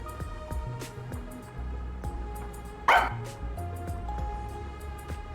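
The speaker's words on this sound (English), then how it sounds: "So I looked around and noticed Sugar barking at this room." Sugar, the dog in the video game Master Detective Archives, gives a short, sharp bark over steady background game music.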